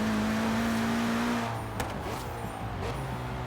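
BMW M4 driving in Forza Horizon 3, a steady engine drone holding a sustained tone that drops away partway through into rougher rumble with brief tire noise, loud and close, no talk.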